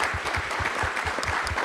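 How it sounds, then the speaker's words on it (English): Audience at a Hurricane Katrina anniversary panel discussion applauding, brisk continuous clapping from a crowd, close and fairly loud. "another round of applause for the city of Houston,"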